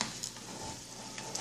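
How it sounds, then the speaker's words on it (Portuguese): Calabresa sausage rings filled with cheese fry in hot oil, giving a soft, continuous crackling sizzle with small pops, close and fairly quiet, with no talking. "tá aqui fritando já"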